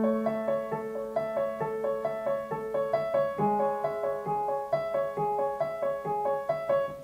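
Piano plays the broken-chord accompaniment pattern of a song, steady repeating arpeggiated notes at moderate volume, heard alone without talking.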